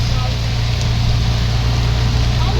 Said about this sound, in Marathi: जबरदस्त पाऊस पडतोय.